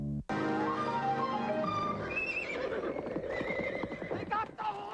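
A horse gives a loud, close whinny that starts high and falls over a few seconds, with hooves clip-clopping and other noise continuing beneath it in an arena setting.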